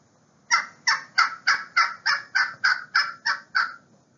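Wild turkey calls: eleven evenly spaced, clucking yelps in a steady run, fairly close and clear against quiet outdoor background.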